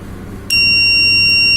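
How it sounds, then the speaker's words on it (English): A loud, steady electronic buzzer alarm from a coal mine gas alert system switches on abruptly after a moment of quiet hum and keeps sounding without a break. "Buzzer will be given, fan will automatically rotate."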